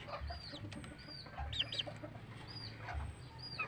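Backyard chickens and young chicks cluck and peep softly in short scattered calls, fairly faint, over a low steady outdoor hum.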